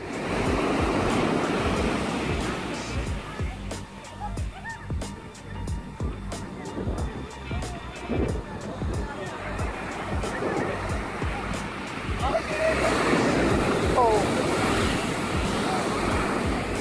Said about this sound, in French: une plage qui va connaître de multiples vagues